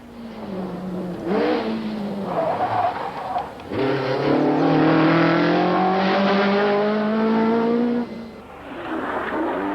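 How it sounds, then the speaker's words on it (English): A 1970s rally car attacks the tarmac of the Great Orme stage, its engine revving hard and climbing through gears with brief lifts between, loud and close throughout, no talk. "behind Mikkola and Vatanen, he attacked the tarmac of the Great Orme stage as if his career depended on it."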